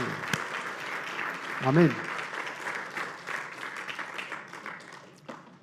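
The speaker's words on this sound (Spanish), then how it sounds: "Démosle un aplauso al Señor, claro que sí" Applause from a church congregation fills the clip, steady and moderately loud, with a voice speaking over it.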